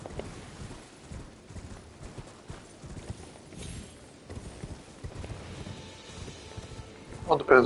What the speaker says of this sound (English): You can also use your horse torrent to do other things like hop on these walls.